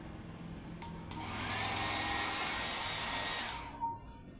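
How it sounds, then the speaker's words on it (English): A handheld hair dryer used as an air blower clicks on and roars with a steady, loud whoosh of air for a few seconds, then switches off, leaving quiet room tone. "I have an air blower here."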